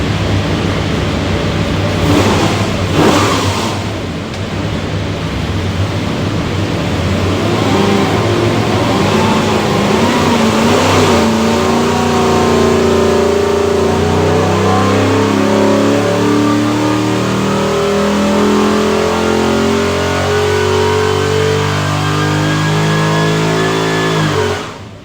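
A 503-horsepower 370ci LS V8 with Holley Terminator X fuel management, bound for an '81 Corvette, revs hard on a dyno, its loud engine note climbing steadily in pitch through a long sustained pull before cutting off.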